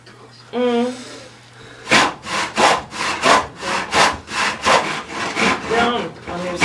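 A dull hand saw cuts through wood in about a dozen steady, rhythmic back-and-forth strokes, close and fairly loud, after a brief stretch of speech at the start.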